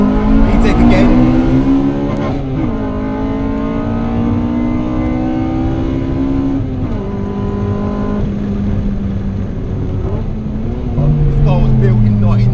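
A 1998 Honda Integra Type R revs hard through the gears, its engine note climbing steeply into the high-rpm VTEC range, dropping at each shift and climbing again, loud and close throughout, with a voice occasionally over it.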